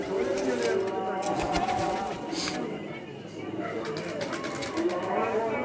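Racing pigeons cooing softly at a pigeon flying competition, low throaty coos in the background beneath someone speaking steadily throughout.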